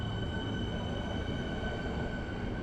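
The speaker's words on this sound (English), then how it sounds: "Our train heads off to finish his journey at Craigieburn" A suburban train pulls out of the station bound for Craigieburn, its steady rumble and hum sustained at moderate loudness with no talk.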